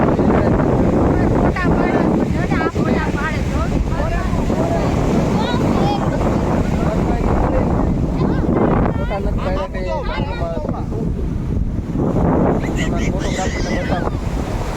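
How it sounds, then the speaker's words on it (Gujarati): Sea waves roll onto a beach with a constant roaring surf, and gusty wind buffets the microphone. Several people talk loudly over the noise. "દરિયાનો અવાજ એક તો અમારો અવાજને રોકી દે"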